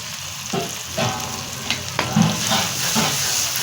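Spices and dried chili frying in a pan for a turnip and pea curry, a continuous close sizzle with intermittent stirring clinks and scrapes.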